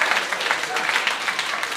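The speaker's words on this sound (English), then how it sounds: "Let's give a round of applause to the drug dealers that kept this city on its feet." A comedy club audience breaks into sustained, dense applause, a steady wash of many hands clapping at fairly close range with no voices on top.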